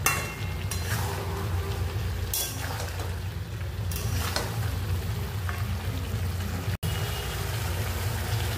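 Potato and cauliflower curry being stirred with ghee in a hot pan, a steady close sizzle and scraping frying noise running continuously with faint clinks, no talking.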